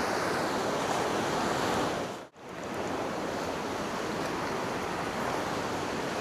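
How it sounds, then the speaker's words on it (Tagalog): Big ocean waves roll and crash at a night fishing spot, a loud, steady broadband surf roar broken by one brief dropout partway through, with no voices. "Lalaki po ng alon, no?"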